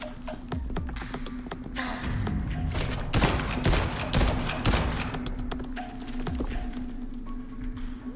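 Gunshots in a video game: a dense run of sharp cracks and booms over a steady hum and background game noise, loud and close, with bursts clustering in the middle.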